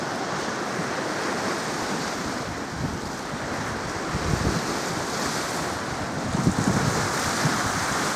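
Choppy loch water at Loch Ness near Urquhart Castle, a steady broad wash of waves lapping under constant gusting wind noise on the microphone, with no voices.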